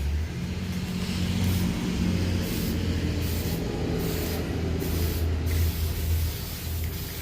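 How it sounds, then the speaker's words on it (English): Continuous loud hiss of a vintage aerosol spray paint can, held steady with slight pulses in intensity and a low background hum underneath. "Tester spray."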